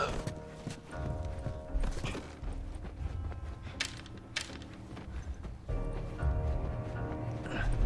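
Horse hooves clip-clopping at a walk, with an occasional whinny, over ambient noise and creaks in the video game The Last of Us.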